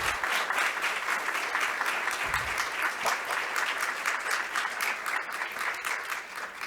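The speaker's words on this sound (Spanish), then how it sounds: "pido un súper aplauso" Sustained, even applause from a crowd, many hands clapping steadily for several seconds without pause.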